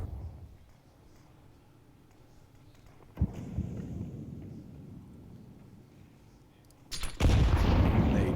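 Grenade blasts in Counter-Strike on the Nuke map, one sharp bang near the middle and a louder, closer burst near the end, set against a quiet low background rumble.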